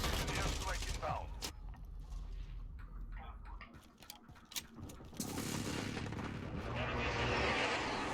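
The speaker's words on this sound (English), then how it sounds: "Enemy precision airstrike inbound." An enemy precision airstrike in a video game battle: heavy booming blasts and dense gunfire crackle, loud and continuous, with a sharp impact burst partway through.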